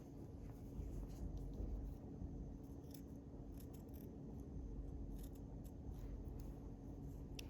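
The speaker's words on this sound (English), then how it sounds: "this is where you want to have a good pair of scissors" Quiet, intermittent scissor snipping and scraping through fabric over a steady low hum, with faint clicks scattered through the clip.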